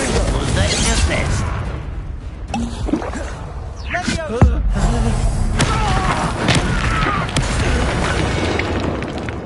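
A Confringo spell explosion in Hogwarts Legacy booms with a heavy thud amid loud game effects and music, one sharp impact standing out near the middle.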